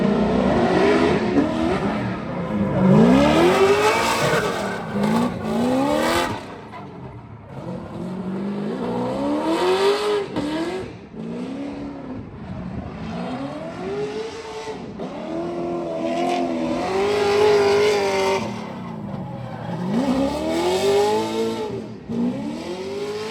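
A car drifts laps on the Englishtown stadium track, its engine revving and wailing up and down continuously with rising and falling pitch, loud and close throughout.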